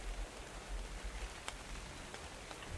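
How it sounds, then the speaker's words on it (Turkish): Steady acid rain in ARK Survival patters continuously as a dense, even hiss, with a few slightly sharper drops standing out over the constant downpour. "Tabii ki de efsanelerden asit yağmur olmazsa olmazlarımızdandı."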